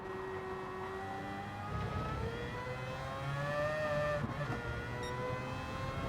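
A race car in Gran Turismo 7 revs and accelerates at steady volume, its engine note rising in pitch through the gears with a slightly tail-happy throttle push.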